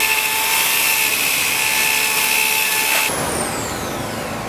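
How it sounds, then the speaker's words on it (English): A drill fitted with a carbide bit bores into the half-inch hard plate of a vault door, a loud steady high-pitched whine with strong tonal grinding that shifts character partway through and continues to the end. "he is changing his normal drill to a drill bit that can pierce half-inch hard plate"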